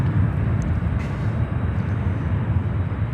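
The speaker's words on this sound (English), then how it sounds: "And next inbound, we have another SkyWest Airlines" A 19-year-old SkyWest Airlines CRJ 200 regional jet arriving at Chicago O'Hare, a steady broad jet roar holding evenly at moderate distance throughout, with no voices.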